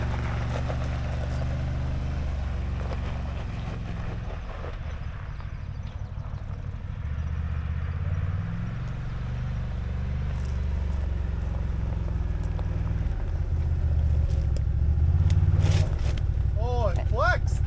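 A 2023 Can-Am Maverick Sport XRC engine idles and revs low as the side-by-side crawls over a small rock, a steady close rumble with shifting pitch under frequent talking.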